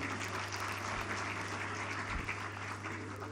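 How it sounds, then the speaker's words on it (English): A conference audience applauds senators, a dense, even wash of clapping from a large crowd that holds steady throughout, with a low hum underneath. "let's clap for them"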